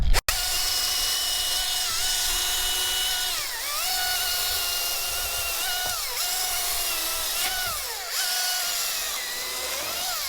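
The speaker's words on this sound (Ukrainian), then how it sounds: "Ще раз в реальному часі погляньте на швидкість, якою ріжеться пила." A power saw cuts aspen firewood, a loud, steady whine whose pitch dips several times as the blade bites into the log, heard up close without any speech.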